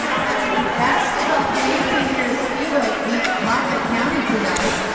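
Crowd murmur at an indoor ice hockey game in an arena, a dense, steady wash of many voices and ambient noise, moderately loud with no distinct cheers standing out.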